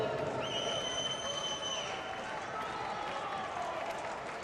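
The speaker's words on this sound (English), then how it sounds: "the crowd really starting to let Yamaguchi feel it and to hear it" A boxing crowd at a 2012 American Olympic qualifying semifinal session cheers and applauds in a steady, distant roar, with a commentator talking over it.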